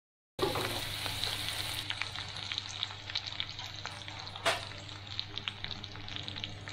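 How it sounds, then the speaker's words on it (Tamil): Cumin and fennel seeds frying in hot oil for an uppu kari chicken dish, giving a continuous crackling sizzle with scattered pops and one louder clatter midway. "இப்போ வந்து நம்ம சீரகம், சோம்பு போட்டுடலாம்."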